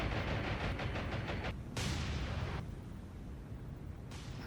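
Anti-aircraft guns fire in a naval video game, a dense, continuous rattle of rapid shots with bursts starting and stopping, heard at a moderate, distant level.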